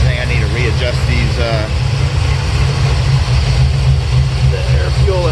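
A 1972 Chevelle engine idles steadily while warming up after a fuel regulator install, a constant low rumble running throughout with someone talking over it.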